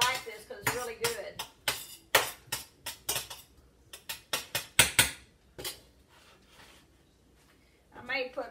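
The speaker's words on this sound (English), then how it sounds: "Get me a spoon, kind of get this stirring around here so the butter will start melting." A spoon stirs mushrooms and melting butter in a pan, a quick series of sharp scraping and clacking strokes against the metal, then a pause before a brief final scrape.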